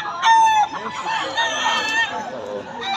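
Roosters crow close by among a crowd of fowl at the Bocaue market, with overlapping crows and clucks over a busy background of market noise and voices.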